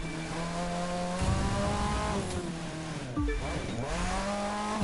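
A retro sports car engine in The Crew 2 revs hard on a wet street, its pitch climbing through gears, dropping sharply mid-way, then rising again, loud and close with a faint tire squeal.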